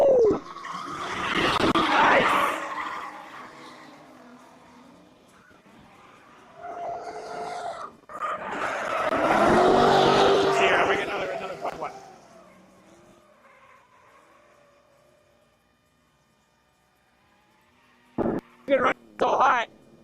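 A green Nissan Z and a purple Nissan Z drift in tandem into the bank at a Mid Michigan Drift Club Matsuri event, with loud, surging engine and tire roar in two long waves and sharp bursts at the end, under a commentator's talk.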